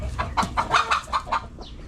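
Chickens cluck in a quick series of close, loud calls near a backyard chicken coop in rural Thailand, with short bursts coming at a steady, busy rhythm.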